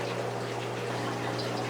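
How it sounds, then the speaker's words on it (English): Steady rush of water pouring into a saltwater aquarium sump, a constant close splashing wash with a low hum beneath. "And I just add the water down into my sump here."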